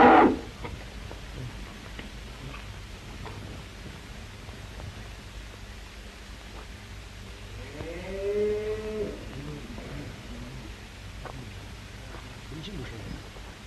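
Cattle on a farm low at moderate distance, with a clearer drawn-out moo rising in the middle of the stretch, over steady background noise and faint rustling.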